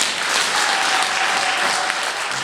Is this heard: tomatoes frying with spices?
no